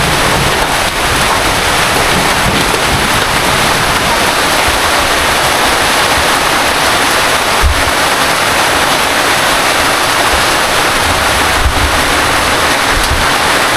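Heavy rain pours down on Good Friday, a dense, continuous roar of falling water with no break, loud and close throughout.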